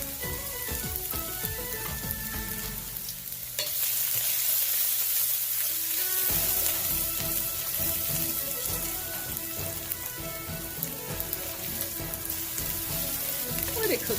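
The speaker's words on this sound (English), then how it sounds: "To this pot, go ahead and add your ginger and garlic." Ginger and garlic sizzling in a hot pot, a loud continuous hiss that swells sharply partway through and holds steady after, with faint stirring underneath.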